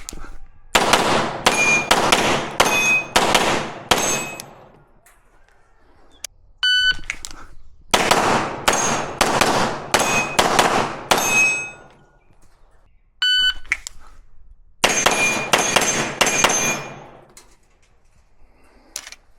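Rifle rounds loaded with Freedom Seeds bullets fire outdoors into a dark background, in three rapid volleys of loud, sharp shots separated by quiet gaps, with brief electronic beeps between the volleys.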